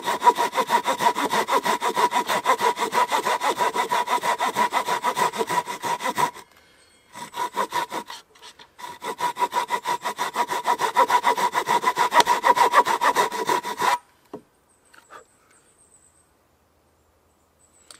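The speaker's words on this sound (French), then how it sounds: "il suffit de scier, de délimiter vraiment l'emplacement et de scier de chaque côté de manière parallèle" A hand saw cuts wood for a tenon in quick, even back-and-forth strokes, close and loud. It runs in two long bouts with a short halting pause between them, then stops into near silence.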